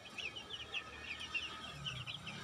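Chickens on a poultry farm cluck and chirp repeatedly in a steady, busy chatter, moderately close, with a low hum of background noise underneath.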